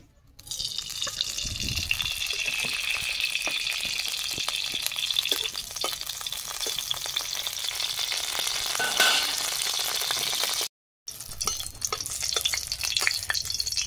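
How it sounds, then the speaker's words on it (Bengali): Dried red chillies fry in mustard oil with a dense, continuous hiss and crackle, close and loud, a brief break near the end before the sizzle resumes; no one speaks. "শুকনো লঙ্কা ভেজে নেব, সর্ষের তেল দিয়ে দিচ্ছি"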